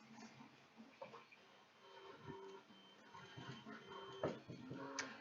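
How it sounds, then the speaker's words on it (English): A running 3D printer whirs and buzzes with stepper motor tones that shift in pitch as the head moves, faint and steady with occasional clicks over several seconds. "You do see there's a printer going on, right?"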